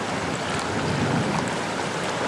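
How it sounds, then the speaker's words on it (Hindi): Steady broadband wash of water and wind, like choppy waves churning against a boat, whipped up by strong wind at a campsite, continuous with no voices. "पानी की हाल देखो कैसे लहरें उठ रहे हैं भाई"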